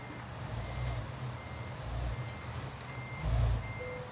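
A truck in Euro Truck Simulator 2 sounds repeated reversing beeps at an even rhythm over a low diesel engine rumble, with no talk.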